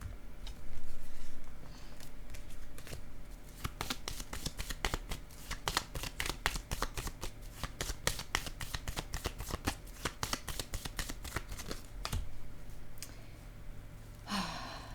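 Tarot-style cards handled, shuffled and laid down on a table, a rapid run of crisp flicking snaps in quick succession through the middle of the clip, close and clear, with a soft breath near the end and no talk.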